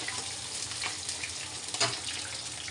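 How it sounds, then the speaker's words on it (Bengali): Whole pointed gourds (potol) sizzle and crackle steadily as they fry in hot oil in a home kitchen, a continuous close hiss with a slightly louder pop near the end. "এই কটা দেওয়া গেল আর এই কটা থাকলো পরে দেওয়া হবে সুন্দর করে লাল লাল করে ভেজে"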